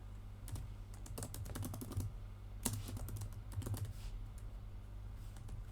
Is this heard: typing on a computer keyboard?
yes